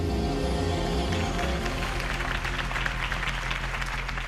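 Steady applause and crowd noise in the video game Batman: The Telltale Series, a dense clapping texture with music or game ambience underneath, continuous and fairly loud throughout.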